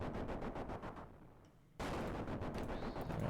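Explosions go off during a Tombs of Amascut raid in the video game Old School RuneScape, a dense run of sharp, loud blasts that drops to a quieter lull, then bursts back at full strength.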